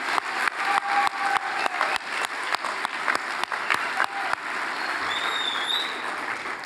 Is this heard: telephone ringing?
no